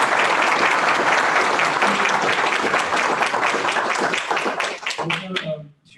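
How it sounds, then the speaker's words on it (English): An audience at a community school bond meeting gives a loud round of applause, many hands clapping steadily before the sound thins out and a voice begins speaking as it fades away. "Can I get a round of applause for these?"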